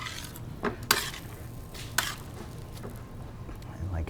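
Cacio e pepe pasta stirred in a pan with a utensil, soft wet squishing under a few sharp clinks of metal against the pan, quiet and close.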